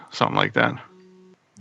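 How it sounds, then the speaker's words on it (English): A mobile phone goes off with a steady electronic tone lasting about half a second after a burst of talk, then cuts out before voices resume. "Pause. That's my phone going off."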